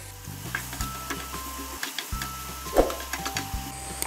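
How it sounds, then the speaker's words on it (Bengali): Onions frying in a pan after salt has been added, a steady close sizzle with a few soft scraping stirs and clicks, no talking. "পেঁয়াজগুলো অনেকটা ভাজা হয়ে গেছে।"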